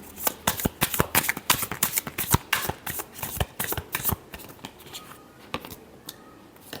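A deck of tarot cards is shuffled by hand in a quick, busy run of riffles and flicks that thins into scattered single snaps toward the end. The sound is close and fairly soft, with no talking.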